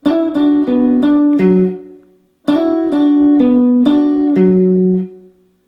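Two short phrases of clean plucked guitar notes, each a quick run of ringing single notes that slides and decays, separated by a brief pause.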